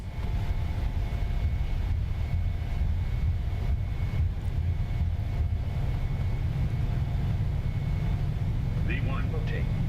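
Boeing 737 engines roar at takeoff power in Microsoft Flight Simulator as a broad, steady rumble and whine that holds level throughout, with a brief voice near the end.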